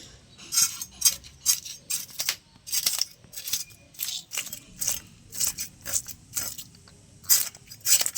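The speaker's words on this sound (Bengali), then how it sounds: "তো মাছটা আমি বটিতে আজ ছাড়াতে পারছি না তুলে ধরে তাই আমি রেখে এইভাবে ছাড়িয়ে নিচ্ছি" A kalbasu fish is scaled and cleaned by hand, giving a run of crisp scraping and rasping strokes in an uneven rhythm, close by with quiet pauses between them.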